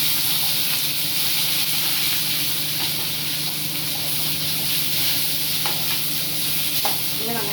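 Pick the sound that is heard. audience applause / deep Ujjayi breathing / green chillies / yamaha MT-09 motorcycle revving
green chillies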